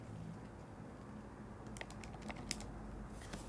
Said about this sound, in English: When I type this in my calculator